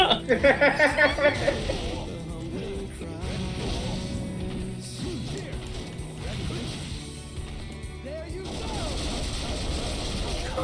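Gunfire and bullet impacts from the fighting game Dissidia 012 Final Fantasy, a busy game mix of shots, clanks and music-like tones with a sharp rapid burst at the start, under voices talking throughout.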